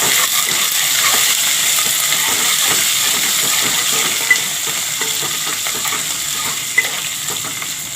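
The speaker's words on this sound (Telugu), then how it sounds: "ఉల్లిపాయ ముక్కలు బాగా మగ్గినాయి తాలింపులో." Onions and curry leaves sizzle steadily in hot oil, a continuous crackling hiss with a few sharp pops, no voices.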